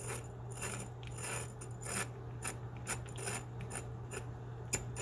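A Detroit key machine cuts a key, a close, faint, steady whirring grind with a low hum underneath and repeated scraping, ratcheting bursts as the blade bites into the blank.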